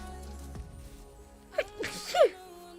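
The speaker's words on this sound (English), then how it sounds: "I'm actually going to start sneezing now." A single sneeze bursts out after a short breath, fairly close, followed by a brief vocal sound.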